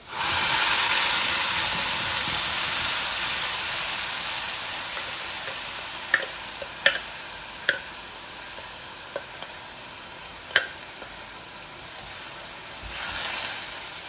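Garlic and onions fry in a hot pan with a steady, bright sizzle throughout, broken by a few sharp clicks from stirring near the end.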